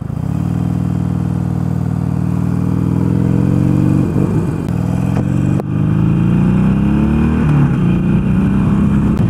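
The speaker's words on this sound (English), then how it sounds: "The 883 lurches to life, vibrational bike that it is." Harley-Davidson Sportster 883 V-twin engine running up close, a loud throbbing idle with rhythmic pulsing that swells as the throttle is blipped, steady and alone without talk.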